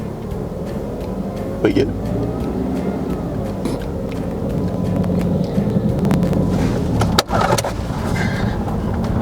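A manual car's engine runs steadily beneath a learner driver's lesson, a low continuous drone with a brief rev near the seven-second mark while people talk throughout.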